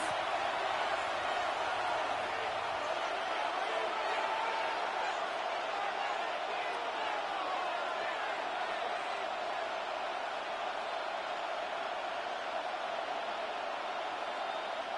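Stadium crowd noise in a Madden football video game: a steady, broad roar of cheering fans, even and continuous throughout, with a commentator's voice faintly mixed in.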